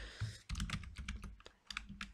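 Rapid, irregular clicking of fingers typing on a computer keyboard while coding a simple search app, close and crisp, with bursts of keystrokes separated by short pauses and no talking.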